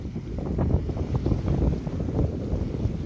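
Steady wind buffets the microphone in a constant low rumble over Lac de Sainte-Croix, gusting slightly throughout, with faint water and radio-controlled Mod 70 trimaran boat noise beneath and no voices.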